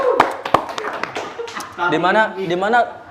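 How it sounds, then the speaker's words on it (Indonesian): A few sharp hand claps from an audience on an Indonesian talk show, greeting the team manager Ahmad Haidir Al-Tamimi, quickly giving way to people talking and chuckling nearby. "Tepuk tangan dulu dong buat manajer kita"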